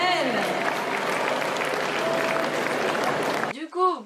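A convention crowd at Geek Days 2018 gives loud, sustained applause to a band, a thick, continuous roar of clapping that cuts off abruptly before a voice begins speaking.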